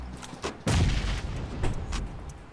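Grenade blast in a competitive shooter match: a heavy booming explosion lands early and rumbles on, followed by softer thuds and gunfire-like cracks, loud and close.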